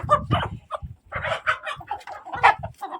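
Chickens and roosters cluck and squawk in a coop, a busy, close-up jumble of overlapping calls in rapid, uneven bursts.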